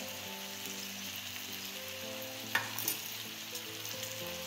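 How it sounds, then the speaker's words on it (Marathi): Homemade masala paste sautés in oil over a low gas flame for bhogi bhaji, giving a soft, continuous sizzle with a faint background hum and one brief clatter partway through. "तो मसाला मी आता हा बारीक गॅसवर परतून घेते."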